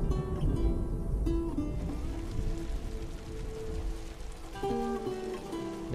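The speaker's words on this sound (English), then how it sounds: "And it's raining." Rain falls steadily in the PS4 game The Last of Us Remastered, a continuous hiss with faint tonal music layered over it.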